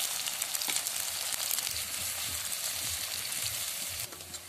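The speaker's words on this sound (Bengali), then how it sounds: "পেঁয়াজটাকে প্রথমে আমি ভেজে নেব।" Chopped onion fries in mustard oil in a wok, giving a steady, loud, close sizzle that holds evenly throughout with no talking.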